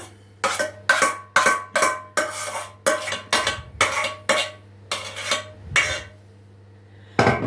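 About a dozen rhythmic scraping knocks of a spoon against a bowl as the rest of the ingredients are mixed into syrnyk batter. The strokes are evenly spaced and close, with a pause before a final one.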